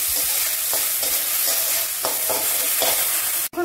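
Moong dal fries in hot oil, a steady close sizzle broken by repeated scraping stirs of the spoon through the lentils, ending in a brief sharp knock.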